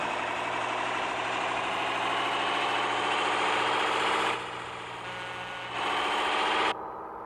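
A truck engine in the Offroad Masters driving game hauls a 12-ton load with a steady, droning rumble. The engine health is dropping, and the sound briefly dips quieter before returning and then cutting off sharply near the end.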